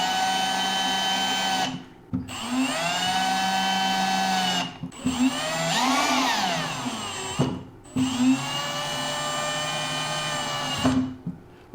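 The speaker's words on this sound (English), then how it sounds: "We can go ahead and grab our drill and snug up our cap." A cordless drill snugging a cap onto an isolation valve fitted to a live pressurized water line, running in three sustained whirring bursts with short pauses between, close and loud with no talk.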